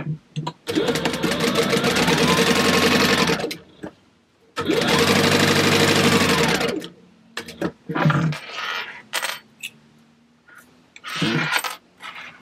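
A sewing machine top-stitches clear vinyl for a book bag, running in two long steady whirring bursts, each a few seconds, then shorter stop-start runs with clicks and handling sounds in between.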